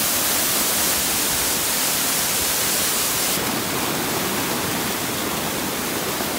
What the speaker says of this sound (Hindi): चल्दो भएको झरना हो यहाँ